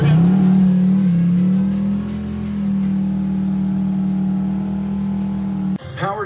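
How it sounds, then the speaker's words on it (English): A 1000HP twin-turbo LS racecar holds a loud, sustained engine roar during a burnout, droning steadily for several seconds before cutting off abruptly into brief noise. "A little burnout for good measures."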